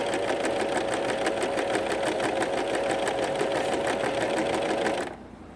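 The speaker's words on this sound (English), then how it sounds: "Put your foot down so we can get a chain happening here. And start overlocking or start stitching." A Pfaff Coverlock 3.0 coverstitch machine stitches a chain at a steady fast mechanical whir with a rapid even needle rhythm, running close and loud before stopping abruptly.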